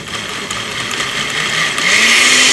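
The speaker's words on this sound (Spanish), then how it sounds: "Ya que se suavizaron nuestros chiles, simplemente los vamos a licuar." A blender purees softened chiles in a loud, steady whir that climbs in pitch as the blades speed up, then cuts off abruptly.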